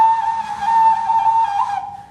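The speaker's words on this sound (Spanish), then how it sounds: "Tiene una ocarina en la parte superior y un sonido más ancestral o un silbato en la parte inferior." A clay instrument combining an ocarina on top with an ancestral-style whistle below, blown in one sustained, slightly wavering high tone that cuts off near the end, played alone.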